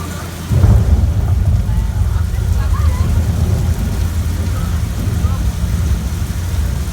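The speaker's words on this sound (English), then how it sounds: "the rain is just sprinklers shooting water directly up into the air and letting gravity do the rest of the work" A dense, steady hiss of sprinkler water sprayed upward and falling like heavy rain on a Universal Studios Hollywood tour ride, with a low rumbling undertone running throughout.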